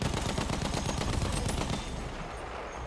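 Rapid gunfire crackles from a Battlefield 1 match for nearly two seconds, dense and loud, and a sniper rifle is among the guns firing. The noise then thins into a quieter battle rumble.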